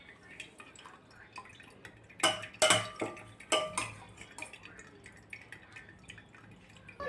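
Whey dripping and trickling from a cloth-lined strainer as homemade paneer drains from split milk, with a cluster of sharper drips and clinks in the middle against a quiet background.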